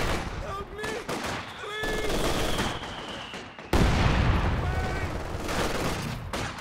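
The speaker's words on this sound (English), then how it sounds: "A heavy mortar action from Bissonnette as well" Heavy mortar fire in a Company of Heroes 2 multiplayer battle, with muffled thuds and rattling gunfire, whistling projectiles and a sudden loud blast midway among constant battlefield noise.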